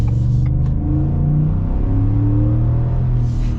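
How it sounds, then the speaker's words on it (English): Ford F-150 RMT Off-Road with a 5.0 V8 rumbles deeply and steadily as the engine revs up and down, loud and continuous with no talking. "You just get this deep rumble. Like, this has to be the best sounding V8 from the factory."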